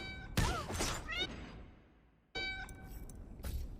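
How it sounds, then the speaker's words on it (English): Cat noises in a fighting game: a few close, clear meow-like cries in two groups separated by a short pause, with no talking over them. "What's making those cat noises?"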